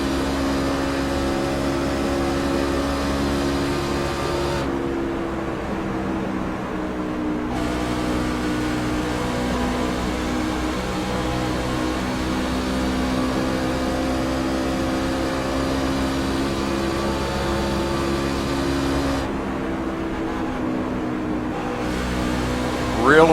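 Pickup race truck engine droning steadily on a track during a race, a sustained loud harmonic roar with slight pitch shifts, continuous throughout and under faint broadcast commentary.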